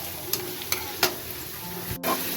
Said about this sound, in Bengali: আর এখানে পেঁয়াজটা এখনো ভাজা হয়নি, আর একটু ভাজা হবে।